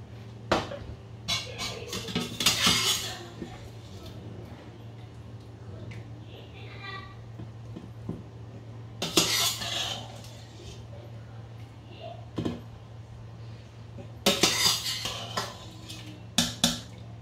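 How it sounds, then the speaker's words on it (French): A slotted ladle scooping boiled potatoes out of a pot of water, with bursts of metallic clatter and scraping against the pot at intervals, close by, separated by quieter stretches of low kitchen hum. "j'ai pris une louche percée, on va dire ça, pour laisser s'écouler l'eau et en même temps pour pas trop écraser mes pommes de terre"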